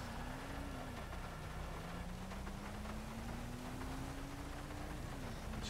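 Steady rain falls in the GTA V video game, a continuous even hiss of rainfall. A low engine hum runs beneath it and there is no talk.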